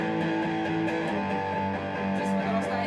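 Acoustic guitar strumming chords from a song, a steady rhythmic flow of full, ringing chords played close and alone without any voice.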